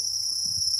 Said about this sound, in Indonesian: inilah indukan jangkrik madu kita. Alhamdulillah tadi sudah nyaring